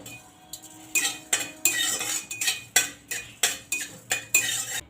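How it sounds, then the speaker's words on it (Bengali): A utensil scrapes and clinks rhythmically against a dry kadai as panch phoron spice seeds roast without oil. About a dozen sharp, close strokes come in quick succession with no voices. "পাঁচফোড়নটাকে একটু ভেজে নিচ্ছি শুকনো কড়াইয়ে"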